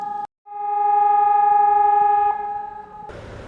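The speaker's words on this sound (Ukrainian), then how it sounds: "Ми навчилися жити під звуки сигналу повітряна тривога." An air raid alert siren in Vinnytsia holds a steady, loud electronic tone for a few seconds, stops briefly, returns, then gives way to background noise.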